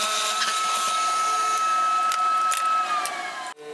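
A shop vacuum drones steadily and loudly close by while a bookcase is mortised, with a high whine and a few clicks before it cuts off abruptly near the end.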